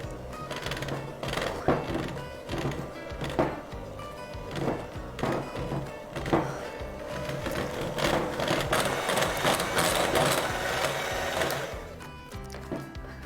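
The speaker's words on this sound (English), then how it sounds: "We're now going to mix on high speed again until light and fluffy." An electric mixer beats buttercream on high speed, giving a loud, steady whirring drone with a rattling edge that runs throughout without letting up. No voices are heard.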